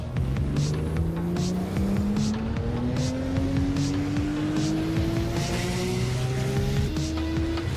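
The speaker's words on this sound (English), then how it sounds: "Pace car now pulls away, as do the rest of the field." Race cars pulling away from the grid in a sim racing game at Zolder, several engines droning and rising in pitch together as they accelerate, a steady loud field of overlapping motor tones.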